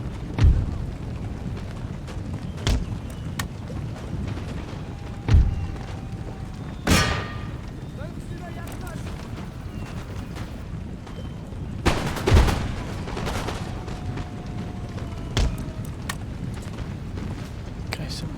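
Cannon and musket fire crack across a battle in Empire Total War, with sharp booming shots at irregular intervals over a constant rumbling din and scattered volleys, while someone talks throughout.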